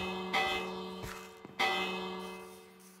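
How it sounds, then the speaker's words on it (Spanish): A bell struck in Minecraft RTX rings out twice, each a bright metallic clang with a long shimmering decay, over a steady low in-game ambient hum. "Una campana que le puedes dar así."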